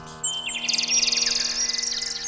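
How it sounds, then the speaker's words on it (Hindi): Small birds chirp and twitter in a lively morning chorus, rapid repeated tweets layered close together over a steady low hum. "सुबह के समय में पक्षियों की आवाज, चिड़िया की चिलबलाहट"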